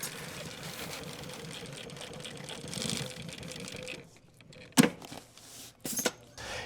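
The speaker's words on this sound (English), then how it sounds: "And now we're going to sew on some patches" A sewing machine stitches patches onto a canvas aviator kit bag, a steady mechanical whirr running for about four seconds before stopping, followed by a couple of sharp handling clicks.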